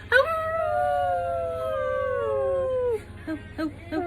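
A baby voices a long, rising-then-falling wolf-like howl lasting about three seconds, imitating a wolf, followed by a few short, softer yelps.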